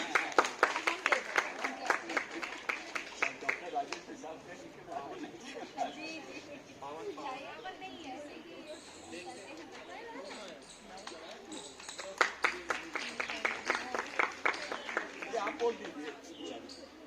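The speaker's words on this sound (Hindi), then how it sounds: "इनके लिए भी जोरदार तालियां।" An audience at a school prize-giving ceremony claps loudly for a student winner, strong applause at the start that fades under continuing talk and swells again later.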